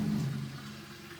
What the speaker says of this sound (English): Okay, so the sump just started to expel water.